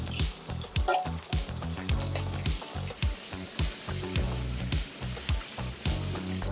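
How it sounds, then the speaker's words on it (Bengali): Hilsa fish fat frying in mustard oil in a pan, a loud, steady close sizzle with rhythmic scraping and stirring knocks throughout. "মাছের তেলগুলো ভেজে নিচ্ছি"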